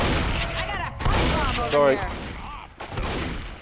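Bursts of video game gunfire from Left 4 Dead crackle in rapid fusillades across a few seconds, heard under and between players' excited voices.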